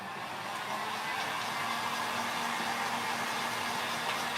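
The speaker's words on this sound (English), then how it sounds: "So I'm gonna give it another go with a heat gun." A heat gun blows hot air over a WoodUbend decorative moulding, a steady broadband whoosh with a faint hum running continuously and evenly from start to finish, fairly close and with no talking.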